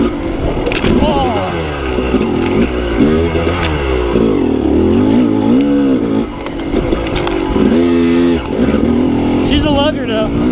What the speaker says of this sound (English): I'd rather have my bike lugging nice and tight and strong than high speed